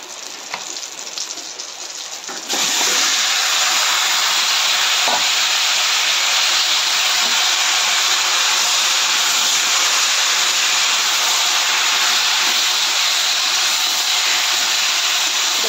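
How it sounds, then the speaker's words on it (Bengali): Cumin seeds hit hot oil and erupt into a loud, steady sizzling hiss that jumps up suddenly and holds strong and close without letting up. "জিরে ফোড়ন দিয়ে দিলাম"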